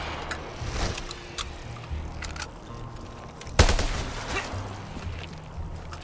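An SMG fires in Black Ops 3 custom zombies, rapid bursts of game gunfire with one louder blast near the middle, backed by mechanical reload clicks and faint background game effects.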